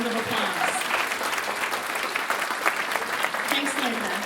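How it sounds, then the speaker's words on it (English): An audience at the PEI Intermediate Honour Band 2026 performance claps in a sustained, dense round of applause that fills the hall evenly throughout. "let's give her a round of applause."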